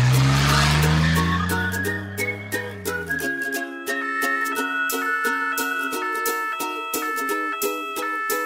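A car skids, giving a loud engine rumble and tire screech for about three seconds before it fades, followed by rhythmic music with no talk.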